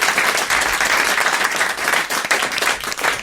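A studio audience at a French television game show applauds in a short, dense, loud burst of clapping that holds steady throughout.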